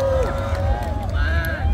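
Concert crowd at a show in Bogor applauds, a continuous dense rumble of clapping and crowd noise beneath someone speaking over it.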